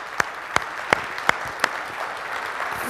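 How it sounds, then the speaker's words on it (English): Sparse, separate claps, about five sharp hits spaced evenly, from an audience in a hall, fairly close and alone over a quiet room background. "Give him a hand, please."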